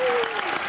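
A studio audience at a comedy talk show breaks into a short burst of dense applause.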